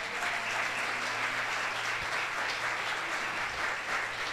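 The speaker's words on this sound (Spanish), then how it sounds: "Denle un fuerte aplauso al Señor por eso." A church congregation applauds in a steady, dense burst of clapping that fills the room evenly from start to end, moderately loud with a faint low hum beneath.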